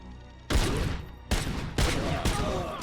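Sniper gunfire from the video game RoboCop Rogue City arrives as three or four loud, sudden blasts. Each blast trails off into an echoing rumble, and there is no talking over them.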